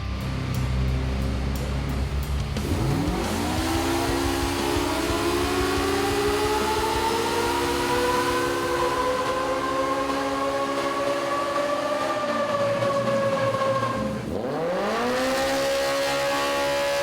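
An MBRP exhaust on a vehicle running on a dyno, roaring steadily as the engine revs rise in long sweeps, eases off, then climbs again near the end, loud and close throughout.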